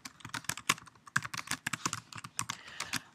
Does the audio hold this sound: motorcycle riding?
no